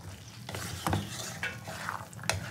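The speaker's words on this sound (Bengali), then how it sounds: "তো মটরগুলো দিয়ে আমি আবারও খুব ভালো করে কষিয়ে নেব" Boiled peas stir-fried with potatoes and spices in a pan, with frequent scraping and clinking strokes of a spoon over a soft, continuous sizzle, close and quiet.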